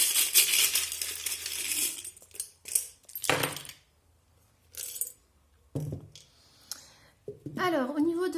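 Small metal charms are drawn for a card reading, giving scattered clinks and jangles in short bursts, quiet and close, with someone speaking between them.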